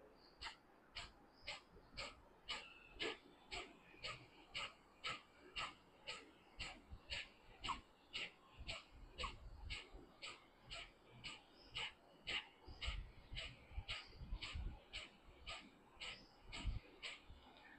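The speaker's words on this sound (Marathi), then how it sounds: "इमॅजिन करायचं समोर मोमबत्ती आणि त्याला आपल्याला नाकाच्या फुंकाराने विझवायचं आहे." A rapid, steady series of forceful nasal exhalations during pranayama, like puffing out a candle through the nose, roughly two strokes per second, sustained and close, with no talking.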